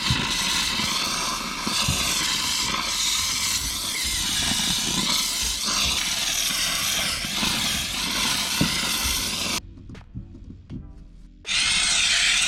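A steam cleaner hissing against the rear window of an Acura TSX, a harsh continuous hiss with a wavering tone, cutting out briefly near the end before resuming loudly.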